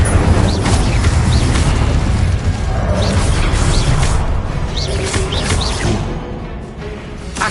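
Incendio fire spell cast in the Hogwarts Legacy video game, a dense, roaring burst of game combat noise with booming blasts and crackling pops, loud and continuous over several seconds.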